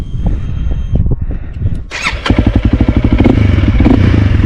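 Honda CRF 300L trail motorcycle fitted with a Yoshimura exhaust, ridden off-road on hard enduro terrain; the engine catches after a brief squeal and clatter, then pulses in a loud, close, throbbing idle and rev.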